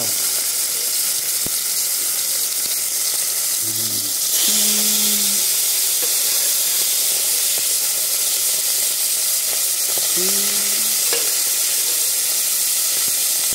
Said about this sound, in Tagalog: Kukuha tayo ng igigisa natin na baka.